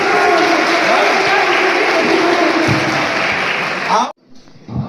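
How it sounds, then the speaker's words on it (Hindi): Loud, dense applause from a large audience at a 'Jal hai to kal hai' water awareness programme in Kathua fills the room for about four seconds, then cuts off sharply to quiet with faint background murmur. "एक बार जोरदार तालियां।"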